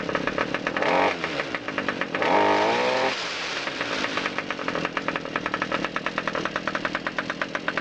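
A small engine idles after a Seafoam fuel treatment, giving a steady, loud, close rhythmic putter with slightly uneven knocking pulses and a couple of brief revs, and no voices.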